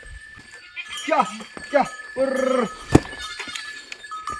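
Goats grazing on a Himalayan hillside, a herd of about eighteen, let out several short, nearby bleats, one drawn out, between bursts of speech from a herder.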